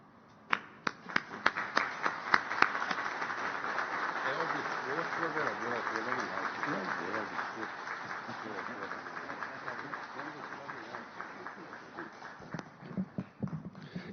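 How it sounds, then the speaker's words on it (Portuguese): Standing applause breaks out in a municipal council chamber during an honorary citizenship ceremony: scattered claps grow into sustained, moderately distant clapping from the room, then taper off into a few last claps and murmurs. "nós levantemos para aplaudir o Chagas"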